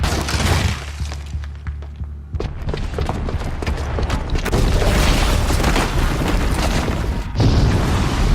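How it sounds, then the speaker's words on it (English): A booby-trapped bomb goes off in the video game Horizon Zero Dawn, a loud boom followed by crashing, shattering debris and clattering impacts that keep rumbling on. "the booby trap on the bomb downstairs is gonna get set off"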